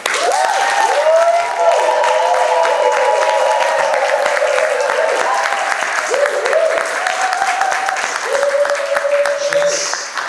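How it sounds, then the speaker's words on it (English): A conference audience claps loudly for Max in continuous applause with a few cheers, while music tones and some voices run beneath the clapping. "Please help me to clap him."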